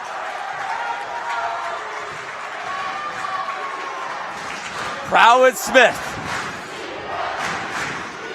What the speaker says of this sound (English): Fans getting on their feet. They're going to get loud here